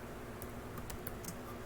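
Fingers tap out HTML code on a computer keyboard, a handful of faint, quick key clicks over a constant room hum, no voice present.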